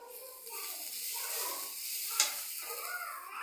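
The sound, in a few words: frying food while cooking dal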